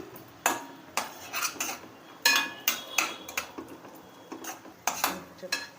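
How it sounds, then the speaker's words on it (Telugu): Raisins and cashews are stirred while frying in ghee in a pan, with repeated close metallic clinks and scrapes of the spoon against the pan and only a faint sizzle underneath. "కిస్మిస్ కూడా వేసేసుకొని 2 కలిపి బాగా ఫ్రై చేసుకోవాలి."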